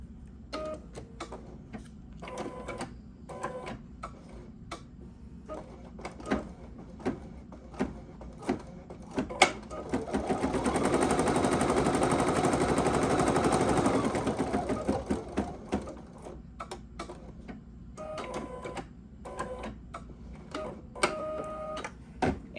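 Sewing machine stitching an embroidery sampler block, a continuous fast mechanical whir of about five seconds set between scattered clicks and handling taps, with no talking.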